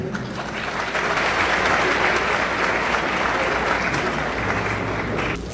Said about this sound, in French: que je vous demande d'applaudir chaudement